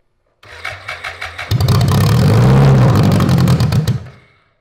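Long-stored 1000cc BMW engine, left sitting for fifteen years and freshly fueled, cranks with rhythmic chugs before catching and running loud and close for a few seconds, then dying out.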